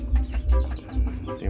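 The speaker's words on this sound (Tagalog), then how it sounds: "Sisiw ng manok at pato." Chicken and duck chicks peep and cluck close by in a short, busy run of repeated calls, loud and unaccompanied by speech.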